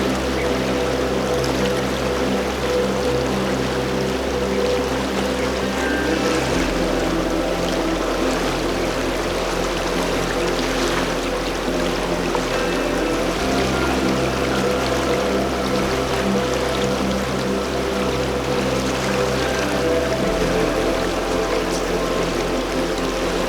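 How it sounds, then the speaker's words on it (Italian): A river flowing on a spring day, a steady rushing wash of water that stays even and close throughout, with no talk. "il fiume con il suo scorrere"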